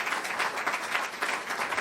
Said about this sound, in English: Let's give hard-working Brother Fontaine from Chicago a round of applause